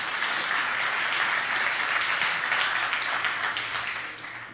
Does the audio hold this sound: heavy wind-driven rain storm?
no